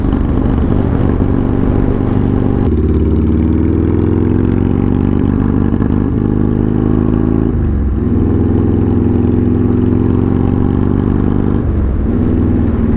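A Buell motorcycle engine runs loud and rough close by, its uneven drone sagging and stumbling at moments as if about to die, with no throttle response.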